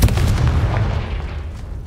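Confringo fire spell cast in Hogwarts Legacy, a dense, rumbling blast with heavy low-end boom that sustains and slowly fades over a couple of seconds, loud and close with no talking.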